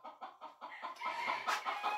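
A chicken clucks in a rapid rhythmic series of short calls, then breaks into a louder, drawn-out squawk. The sound is close and fairly faint.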